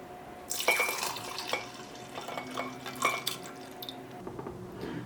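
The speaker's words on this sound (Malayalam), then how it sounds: "ഈ മിക്സിയിലേക്ക് നമുക്ക് പാല് ചേർക്കാം." Milk poured into a mixer jar while making a Sharjah shake: a soft, uneven liquid splash and trickle with small glassy clinks, close and fairly quiet, no talking.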